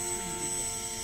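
An RC Cessna 182 model airplane on a 4-cell battery flies overhead with other model planes in the air, giving a steady, moderately distant electric motor drone with a high propeller whine, alone without talk.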